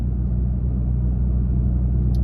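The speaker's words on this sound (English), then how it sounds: "So how is the Flowmaster exhaust on the Toyota Tacoma after a couple of weeks, give or take a day or two?" Inside a Toyota Tacoma with a Flowmaster exhaust cruising at 41 mph, a steady low droning rumble of engine and road noise fills the cab, even and constant with no speech.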